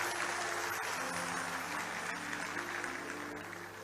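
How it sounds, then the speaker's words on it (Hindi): Audience applause at a Hindi public speech event, a steady dense wash of clapping throughout, fairly loud and tapering slightly toward the end with no talk over it. "आपकी तालियां कमजोर पड़ गई हैं"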